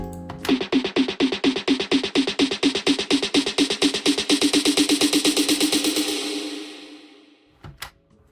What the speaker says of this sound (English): so we only really start bringing in the reverb near the end of the rolls